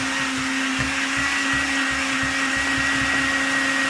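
Electric hand mixer whipping cold eggs for tiramisu in a home kitchen, a loud, close, steady motor whine with a faint rhythmic churning underneath, unbroken for the whole stretch with no talking.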